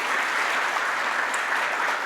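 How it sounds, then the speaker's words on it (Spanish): A summit audience claps steadily and fairly loudly for a speaker, a dense even wash of applause with no voices over it. "Un fuerte aplauso, por favor, para Leslie."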